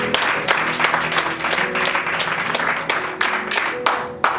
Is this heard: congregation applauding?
yes